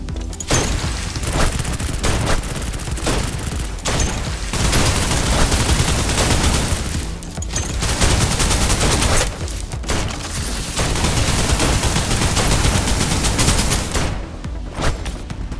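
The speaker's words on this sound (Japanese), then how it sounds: "制圧射撃を始める。" Sustained suppressive gunfire in the shooter Snowbreak, a loud continuous fusillade of rapid automatic shots with booming impacts that barely let up across the whole stretch.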